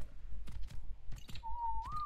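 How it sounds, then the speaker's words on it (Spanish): A whistle from the video game ARK, a single clear tone sustained near the end that rises slightly in pitch, preceded by a few brief clicks and thumps, fairly quiet overall. "Estos son los silbiditos."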